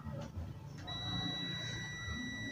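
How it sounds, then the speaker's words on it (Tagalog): A multimeter's continuity buzzer gives a steady, high-pitched electronic buzz, detecting a short in a satellite receiver; it starts about a second in and holds continuously, faint against a low background hum. "So nagbabuzzer na siya guys. Ibig sabihin mayroon siyang short na na-detect."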